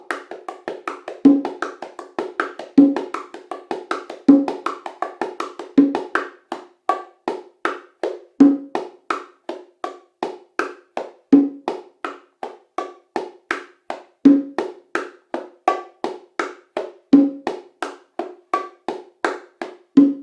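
A hand percussion martillo pattern with the left hand muting the strokes: crisp, evenly spaced taps in a steady repeating cycle, a heavier accent recurring every few beats, close and dry with no talking.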